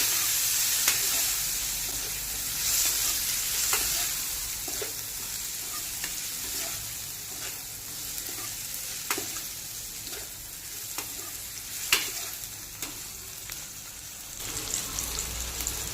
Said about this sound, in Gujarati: હવે આ બધી વસ્તુને આપણે ધીમા તાપે સાતળશું